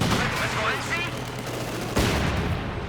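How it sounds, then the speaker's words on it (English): MP40 submachine guns rattle in a Company of Heroes 2 battle, with dense bursts of gunfire and game noise layered together over about three seconds, and a sharp crack near the end. "MP40s mopping up the rest."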